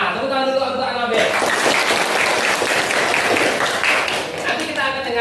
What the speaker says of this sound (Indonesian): tepuk tangan dulu untuk Anabel